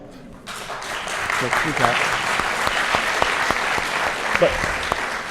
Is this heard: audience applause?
yes